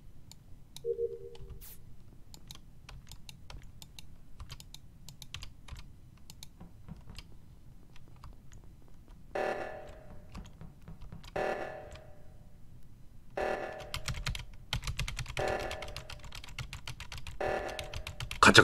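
A computer keyboard clatters in scattered bursts of rapid keystrokes during Among Us gameplay, growing busier and louder toward the end over a faint background hum, with no talk.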